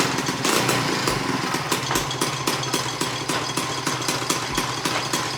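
Mobylette moped engine running just after starting, a steady close, loud buzzing putter with rapid rhythmic pulses throughout and no talking.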